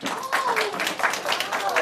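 Studio applause for Ms. Thompson, named WRAL's Teacher of the Week, during a TV news segment: a burst of close, dense clapping with voices calling and talking underneath.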